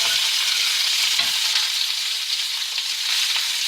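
Steaks sizzle steadily in a hot pan over medium-high heat, a continuous close, loud hiss and crackle with no break and no voices.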